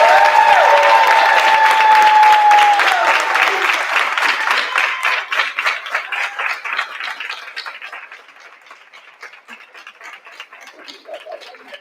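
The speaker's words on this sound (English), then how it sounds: "Please give them a round of applause" An audience at a school district board meeting applauds distinguished student scholars, loud sustained clapping that gradually fades to scattered individual claps, with a brief voice or whistle near the start.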